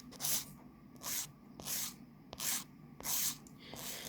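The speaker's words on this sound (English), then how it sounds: "You will only want to file in one direction, okay?" A nail file rasps across a natural fingernail in steady strokes, roughly six short, evenly spaced scratchy bursts close up with quiet gaps between them and no talking.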